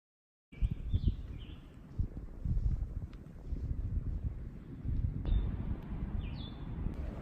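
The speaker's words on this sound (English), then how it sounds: "it's very windy today, as you can tell." Wind on the Appalachian Trail near Black Rock Overlook in Virginia, a steady buffeting rush against the microphone with a few faint bird chirps above it.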